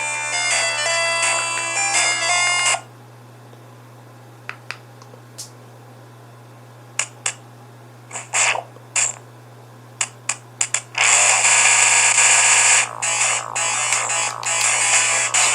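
Double Dragon on the Mega Drive, emulated on a Chinese handheld console, with bursts of chiptune music and sound effects, a pause filled by scattered clicks and hits, then dense bright music again under a steady low hum.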